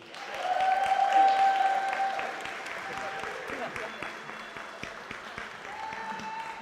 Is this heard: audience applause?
yes